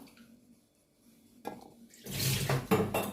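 Quiet clinks at first, then running water splashes loudly over onions being rinsed in a bowl, with a few knocks.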